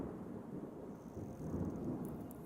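Low rumbling thunder with steady rain noise in the environmental game Terra Nil, a continuous deep roll that swells slightly midway, no voices.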